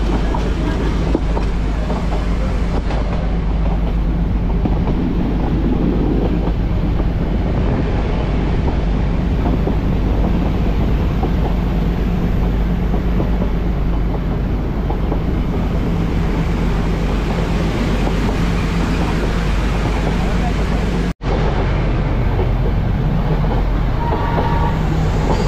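Mettupalayam to Ooty steam toy train running at speed, a steady loud rumble of wheels and carriage with wind buffeting the microphone throughout, briefly cutting out near the end.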